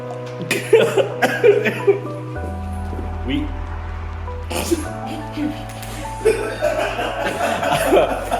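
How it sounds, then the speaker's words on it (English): A few harsh coughs burst out at close range over a steady humming background, separated by quieter pauses. "I'm not coughing because of the flu."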